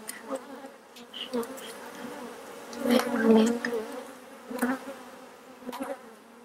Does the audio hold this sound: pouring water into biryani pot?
no